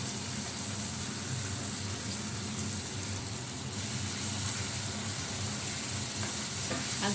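Potatoes frying in a pan of oil for a fish curry give a steady, dense sizzle that runs without a break, with faint stirring sounds mixed in and no talking.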